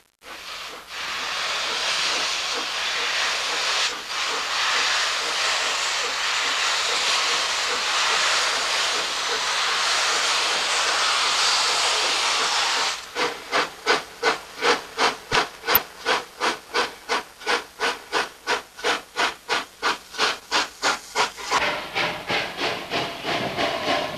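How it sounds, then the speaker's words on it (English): Loud steady steam hissing, then a Polish OL-49 steam locomotive starts chuffing in a fast rhythmic pulse that quickens as it pulls away from Wolsztyn station. "Departure of an OL-49."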